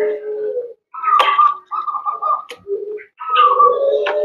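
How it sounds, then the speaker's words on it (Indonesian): Zebra doves cooing nearby, soft trilling, bubbly coos repeated in short phrases with brief pauses between calls. "Ini burung-burung perkutut bahan saya"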